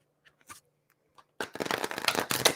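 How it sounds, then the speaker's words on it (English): A deck of numerology cards is shuffled: a few soft taps at first, then about a second of dense, rapid riffling clatter that runs to the end, close and fairly quiet. "Definitely going to see it blur because I'm shuffling for numerology."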